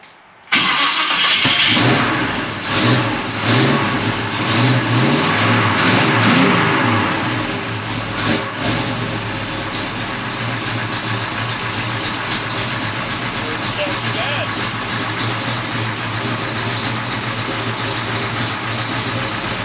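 A 1956 Chevy long-roof gasser with a junk motor cranks and fires, then revs hard through its mufflers in rising and falling bursts before settling into a loud, steady, rumbling idle close by.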